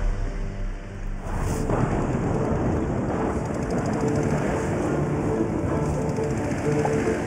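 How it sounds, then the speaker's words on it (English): A storm with rain pouring down steadily and a deep rumble beneath, loud and continuous after a sudden onset, enveloping and close with no voices. "How's about I bring you a storm? Make it rain."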